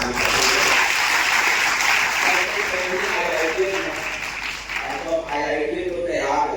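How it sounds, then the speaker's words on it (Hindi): Steady, dense applause from a large audience fills an award ceremony honouring top intermediate and matriculation students at a coaching centre in Bikram, loud and continuous throughout. "हम अपने बच्चों की ओर से तालियां बजवाना चाहते हैं"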